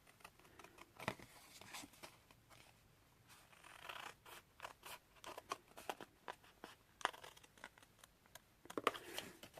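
Scissors cut through card while a pop-up card is being made, giving faint, irregular snips and crisp paper rustles close by in a quiet room.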